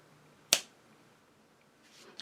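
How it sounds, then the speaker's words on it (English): A single crisp finger snap lands sharply, then decays quickly into a quiet room, with only faint background noise. "I'm going to snap my fingers"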